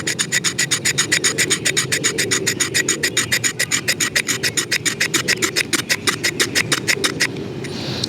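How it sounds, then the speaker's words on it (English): A blade scraping rapidly and rhythmically along an American Tomahawk Model 1 Vietnam tomahawk, about forty rasping strokes in a steady, close, loud series that stops abruptly near the end. "So obviously the blade will scrape it"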